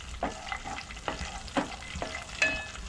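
Peeled cashews and almonds roasting in ghee in a pan for carrot halwa, a soft sizzle under rhythmic stirring strokes, about five scrapes spaced roughly half a second apart, close and without talk.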